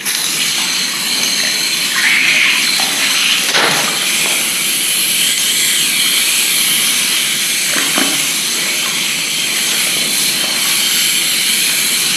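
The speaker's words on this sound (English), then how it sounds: "I'm just going to take my hose and rinse it out." A garden hose rinses out a Tuf-Tite sump drain in a garage, making a constant loud hiss and rush of spraying water with a few brief splashes and knocks.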